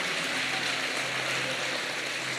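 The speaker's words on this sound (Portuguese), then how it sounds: "Pode aplaudir Jesus." A church congregation claps in praise during a Pentecost service, a thick, steady wash of many hands without pause.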